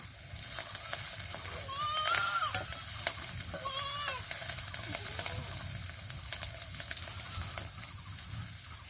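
Leafy greens fry in a pan at an outdoor village cooking spot on a cool morning, giving a soft, continuous sizzle with stirring scrapes, while a goat bleats twice in the background.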